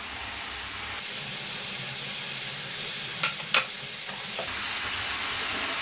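Paneer pieces fry in a hot pan, giving a steady close sizzle and hiss throughout, with a few sharp clicks of stirring midway and no talking.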